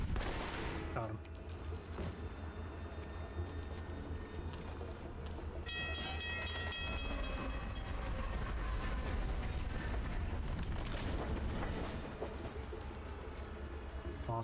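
Train passing on tracks in Alpha Protocol, a loud continuous rumbling roll with screeching, tonal metal squeals partway through and bursts of gunfire mixed in.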